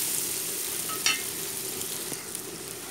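Food being sautéed in a pan with a little salt, a steady broad sizzle throughout with a couple of brief utensil clinks and scrapes, no talking.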